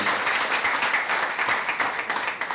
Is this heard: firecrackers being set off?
no